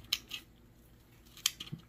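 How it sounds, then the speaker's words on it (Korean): Scissors snip twice through the tangled fine roots of a Deutzia plant being divided for repotting, two short crisp cuts close up with a quiet pause between them. "이렇게 이제 엉킨 부분만 이렇게 잘라주시면 됩니다"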